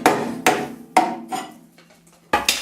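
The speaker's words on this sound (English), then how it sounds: "it's quite easy then just to tap with a chisel" A hammer taps a chisel against the metal body of a V12 Jaguar E-Type under restoration, giving five sharp ringing metallic strikes in an uneven rhythm with short decays between them.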